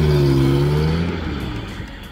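Maruti Gypsy engine revving loudly during an off-road recovery through water, a strong close roar that drops in pitch and fades slightly over two seconds.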